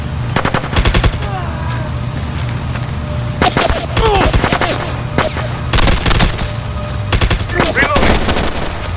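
Automatic weapon fire in the SOCOM U.S. Navy SEALs Fireteam Bravo 3 video game, repeated loud bursts of rapid shots separated by short gaps, with a steady background hum and brief voices in between.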